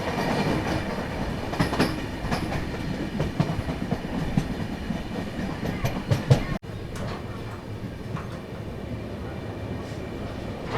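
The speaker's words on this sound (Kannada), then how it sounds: "ನಮ್ಮ ಟೂಟಿಕೋರಿನ್ ಎಕ್ಸ್ಪ್ರೆಸ್ ಸದ್ಯಕ್ಕೆ ತಲುಪಿದೆ ಸೋಲಾವಂದನ್ ತಾನೇ ಗುರು, ಸೋಲಾವಂದನ್ ಸ್ಟೇಷನ್ಗೆ." Tuticorin Express train running on the rails, a steady loud rumble with rhythmic wheel clatter heard from on board, with brief sharper knocks and a dip as the noise shifts partway through.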